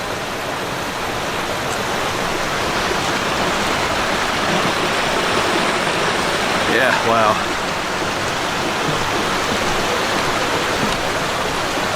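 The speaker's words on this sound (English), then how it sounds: "Like a little waterfall tucked back into there." A small waterfall tucked into a frozen, icy cave area gives a loud, continuous rushing hiss of falling water, with a brief voice reacting over it.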